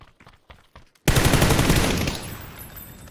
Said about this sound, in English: Guys shooting above.